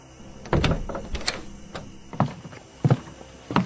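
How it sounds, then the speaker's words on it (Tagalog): A door being opened, with a few separate knocks and clunks spread across a few seconds, fairly close and loud against a quiet room. "Sa pagkakataon na yon, dumating rin si Efren kaya binuksan ko ang pinto."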